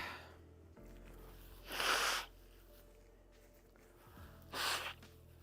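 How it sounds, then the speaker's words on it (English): Two forceful nose blows, a couple of seconds apart, loud and close, with quiet room tone between them. "I got to blow my nose"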